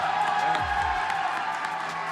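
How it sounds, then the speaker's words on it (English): A live esports crowd in Philadelphia cheers and applauds, a steady wash of whoops and clapping from a modest but loud audience, sustained throughout. "I appreciate the crowd. Even though it's not super big, you guys are loud"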